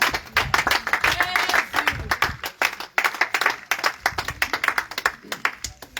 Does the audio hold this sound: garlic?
no